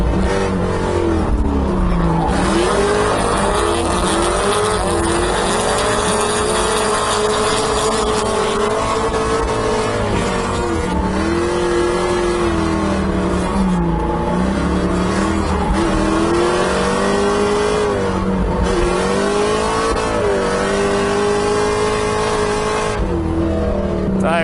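A drift car on a road course accelerates hard with a loud, continuous engine roar that rises and falls in pitch through repeated revs and shifts, close and dominant with no talk.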